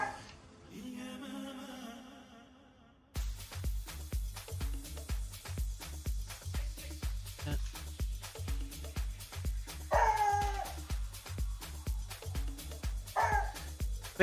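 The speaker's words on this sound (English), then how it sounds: "The problem is the neighbor's dog is outside" A neighbor's dog barks outdoors, a few distant, muffled yips and barks rising over a steady pulsing workshop rhythm near the middle and end, with no talk.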